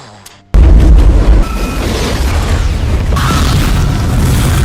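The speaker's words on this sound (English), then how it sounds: "that sonic boom is delayed" An atomic bomb blast from the film Oppenheimer: after a short near-silent lull, a massive booming roar erupts suddenly and stays loud and rumbling, a sustained deep sonic boom that fills the space.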